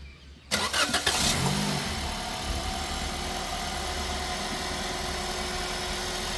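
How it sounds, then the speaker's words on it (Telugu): A Toyota Yaris petrol engine cranks and catches after a brief moment of quiet, revs up for about a second, then drops into a smooth, steady idle hum. "ఒకసారి ఇంజిన్ కూడా స్టార్ట్ చేస్తానండి, సౌండ్ ఎలా ఉంది ఏంటనేది ఒకసారి అయితే గమనించండి."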